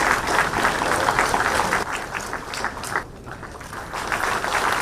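A hall crowd at a government ceremony handing appointment letters to JSSC exam passers claps loudly and steadily, then the applause eases slightly before swelling again.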